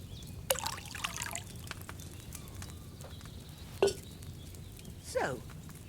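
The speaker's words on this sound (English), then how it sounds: "So, what did you pour in there? Wine, of course." Wine poured from a pitcher into a cauldron in the video game Kingdom Come: Deliverance 2, heard as a few short, quiet liquid trickles and splashes over a low ambient hum.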